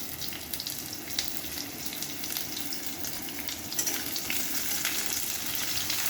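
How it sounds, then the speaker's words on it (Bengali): Chopped garlic, onion and slit green chillies fry in oil in a pan, a steady close sizzle with faint crackles and occasional stirring scrapes, holding even throughout and rising slightly toward the end, with no talking. "রসুন কুচিটা একটু ভেজে নেওয়া হলো"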